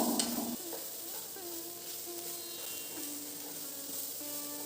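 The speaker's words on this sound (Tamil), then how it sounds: "சுண்டக்காவையும் சேர்த்துட்டு கொஞ்சம் நேரம் வதக்கிக்கோங்க" Turkey berries sautéing in a pan give a soft, steady sizzle, with a spoon scraping and stirring in a few quiet strokes, faint and close.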